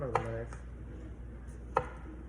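Knife chopping bread and butter pickles on a cutting board, two distinct sharp chops about a second and a half apart over a low background hum, with no speech.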